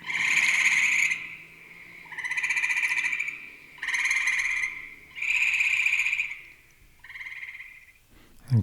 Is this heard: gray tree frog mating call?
yes